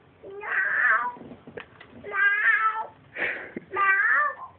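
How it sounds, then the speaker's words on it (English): A cat meows four times in drawn-out, wavering calls with short pauses between them, loud and close. "They only talk in meows."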